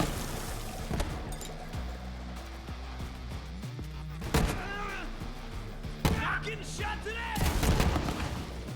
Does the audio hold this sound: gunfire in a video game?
yes